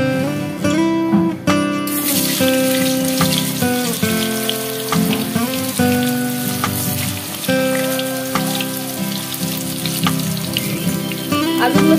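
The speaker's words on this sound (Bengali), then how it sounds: "এবার আমি আলুগুলো একটু ভেজে নেব।" Potatoes fry in hot mustard oil with a loud, continuous sizzle and spatter, accompanied by tonal music throughout.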